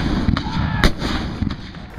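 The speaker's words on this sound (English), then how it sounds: "Now Jubal Early brought up cannon and shelled this ridge." Cannon fire from Civil War artillery shelling a ridge, a few sharp booming blasts over a continuous rumbling roar of battle.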